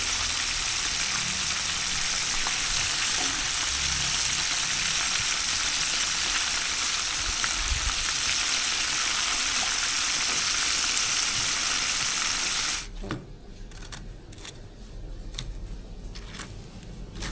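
Chicken frying in a pot makes a loud, steady hiss that runs for most of the stretch, then cuts off abruptly and leaves quieter clinks and rustles.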